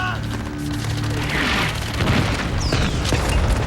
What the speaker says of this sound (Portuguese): Agora vinha o bombardeio da artilharia.